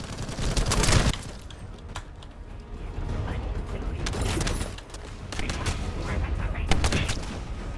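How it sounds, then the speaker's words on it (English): Continuous rapid weapon fire in the shooter video game The First Descendant, dense crackling bursts with mechanical clatter, moderately loud and sustained across the stretch with brief dips. "the fact that you can just continuously fire a shit ton of ammo"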